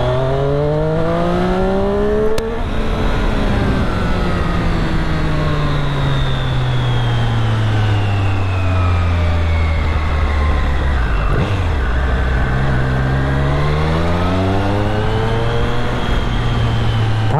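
Triumph Street Triple R motorcycle engine accelerating hard through the gears, a loud, close, continuous whine that climbs in pitch, drops sharply at each shift, and climbs again.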